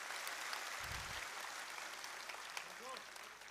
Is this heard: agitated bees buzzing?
no